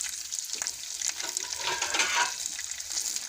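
Fish sizzles in hot oil in a pan as another piece goes in and is stirred, a soft, steady crackle with a few brighter spits, fairly quiet and with no voices.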